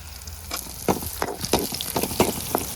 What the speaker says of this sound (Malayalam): കൊച്ചുള്ളി വഴന്നിട്ടുണ്ട് നമുക്ക് ഒരു എട്ട് മുളകും കൂടെ ഒന്ന് മുറിച്ചിടാം